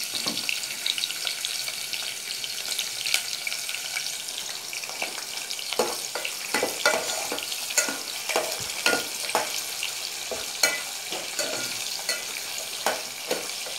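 Ginger garlic paste frying with browned onions for kofta curry: a steady bright sizzle in hot oil, with intermittent stirring scrapes and clinks of a spoon against the pan.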